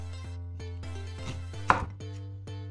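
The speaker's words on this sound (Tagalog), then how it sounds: "Chop natin ng konti." A knife chops vegetables on a board for Bicolana-style ampalaya con carne, with sharp, evenly spaced cuts in a steady rhythm and one louder thump near the end, close up over a constant low hum.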